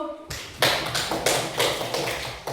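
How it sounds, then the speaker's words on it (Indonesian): Classroom applause from a group of students, a steady burst of many hands clapping that starts suddenly and continues with uneven swells, fairly close and loud. "Kasih aplaus dulu."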